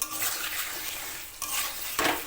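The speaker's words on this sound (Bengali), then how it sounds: "ভেজে রাখা আলু মশলার সাথে আলুটা একটু মিশিয়ে নিচ্ছি" Fried potatoes being stirred together with spices in a pan for a Bengali shol fish dish, giving a soft, continuous scraping and light sizzle with a few louder stirring strokes near the end.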